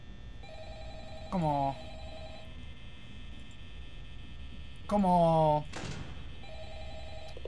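A telephone rings with a steady electronic tone in the Five Nights at Freddy's video game, sounding in two stretches, while a voice speaks briefly twice over it.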